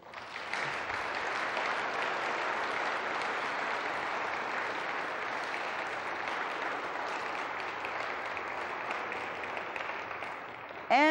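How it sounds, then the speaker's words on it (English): Steady, even applause from a conference audience at a UFO research gathering carries on for about ten seconds at a moderate distance, with a brief louder sound cutting in at the very end. "I would like to hear a round of applause for John Schuessler."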